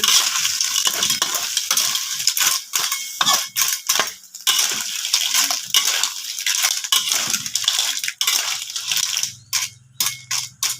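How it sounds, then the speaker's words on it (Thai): Clams stir-fried in a pan with crispy fried shallots, with repeated scraping and stirring strokes and crunchy clattering of shells against the pan, loud and close, with no talk. "กระเทียมหอมกรอบเรียบร้อยแล้วก็เทหอยลงไปเลยจ ้า พักทุกอย่างให้เข้ากัน"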